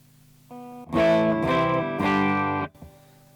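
An electric guitar played through a MOSFET boost pedal turned all the way up, giving a loud, fairly clean-edged boosted tone with two strummed chords ringing for about two seconds before cutting off.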